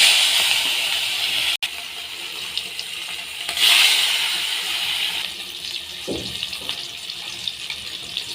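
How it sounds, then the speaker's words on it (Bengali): Fish frying in hot oil in a home kitchen: a steady, even hiss with a louder burst partway through, heard alone without voices. "তেলটা গরম হয়ে গেছে মাছগুলো দিয়ে দিচ্ছি"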